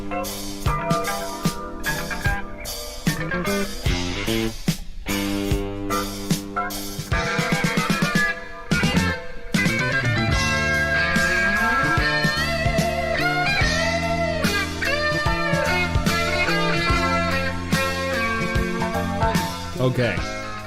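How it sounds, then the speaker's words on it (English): A 1970s funk soul track plays with a dense groove of bass, drums and layered melodic parts at steady volume, stopping briefly a few times before resuming. "this is a very, very 70s, just core funk soul sound"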